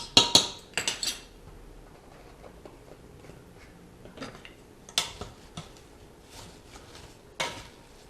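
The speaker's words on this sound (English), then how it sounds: "Give this a stir, get everything all blended in." Spiced red cabbage with apples and ground cloves being stirred in a cooking pot, with a few sharp clinks of a utensil against the pot at the start and sparse scraping taps afterward, fairly quiet with no talking.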